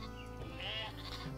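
In the strategy game Northgard a sheep gives a single short, wavering bleat, played quietly over a soft background.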